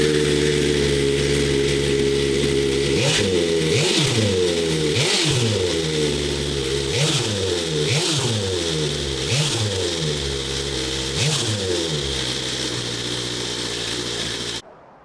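A 2022 BMW S1000RR motorcycle fitted with an SC-Project exhaust idles loudly and close by, blipped through a run of sharp revs every second or so, its exhaust note rising and falling, before cutting off abruptly at the end.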